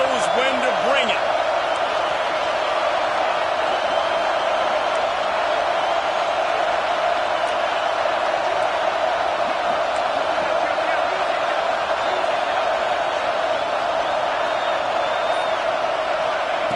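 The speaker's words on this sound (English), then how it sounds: "These fans are going absolutely nuts." A packed college football stadium crowd roars steadily, a dense, sustained wall of cheering and shouting that holds loud from start to finish without a break.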